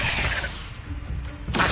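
A Levioso spell cast in a Hogwarts video game: a bright crackling, shattering burst with a whooshing swell, followed by a second sharp flare near the end, heard alone without voices.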